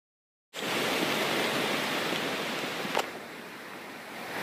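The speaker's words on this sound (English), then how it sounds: "You see the tributary coming off of there into this stream?" A flood-swollen stream on New Cut Road in Ellicott City, Maryland, with a tributary pouring into it, roars as a loud, steady rush of water that starts abruptly and holds constant throughout.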